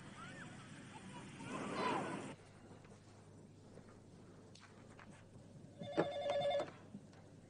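A telephone rings in an office scene of a Hindi TV drama, a short electronic trill of rapid pulses arriving late after quieter background rustle and a muffled burst.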